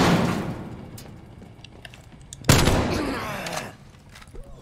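Gunfire exchange in the shooter game Black Ops Cold War: a burst of shots opens, then a second loud volley hits sharply and rattles on for about a second before fading into background game noise.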